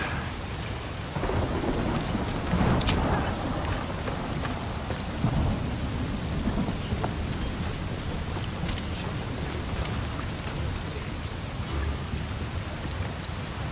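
Heavy rain pours steadily in a Desperados 3 storm, with deep rolling thunder rumbling beneath the downpour throughout and a louder crack near the start.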